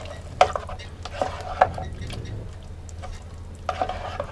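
Chicken risotto with sauce being stirred in a pan, with a few soft scrapes and clinks of a utensil against the pan over a low, steady background hum.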